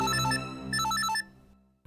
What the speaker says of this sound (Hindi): फोन फोन देखो, जल्दी देखो।